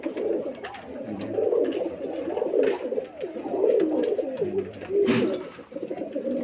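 A Rajshahi Giribaj pigeon with heavily feathered feet coos nearby in low, rolling, repeated phrases, steady and close with no talk.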